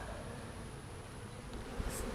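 Honeybees buzz steadily around an open top bar hive during an inspection, a dense, continuous hum of many wings close by with one louder bee passing near the end.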